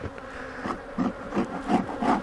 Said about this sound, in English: so the bees can go in and out right there